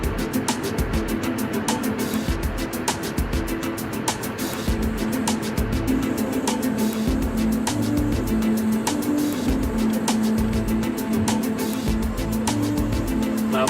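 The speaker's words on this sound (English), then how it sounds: "It's really hard to be filming in the car here because the road is rough, patched up all over the place," A car drives over a rough, patched-up road near a mountain range behind big trucks, giving a steady, loud engine and road rumble with rattling bumps throughout, no talking.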